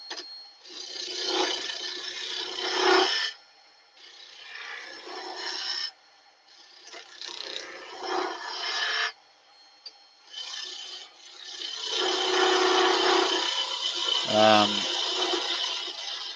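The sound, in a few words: skew chisel cutting wood on a lathe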